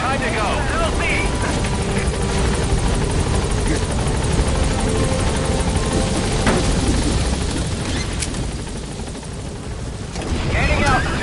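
A B-Quad support helicopter from Metal Gear Solid V arrives at a landing zone, its rotor roar loud and steady throughout with a broad low thump, while radio voices talk over it.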